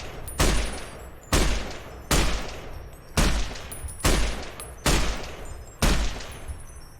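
Seven loud, evenly spaced gunshots ring out in Fallout: New Vegas, each a sharp close blast with a short decaying tail, fired at a steady rhythm about once per second.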